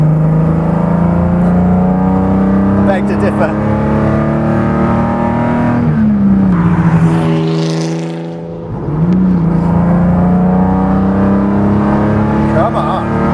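An Eagle E-Type Low Drag GT exhaust sounds loud and steady while driving, with a sustained engine drone that dips briefly then returns; someone speaks over it.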